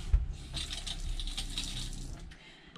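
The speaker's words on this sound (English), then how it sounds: "So we have running water here" Running water from a kitchen tap inside a self-converted bus, a steady close hiss of flow after a brief clunk at the start, with no talking.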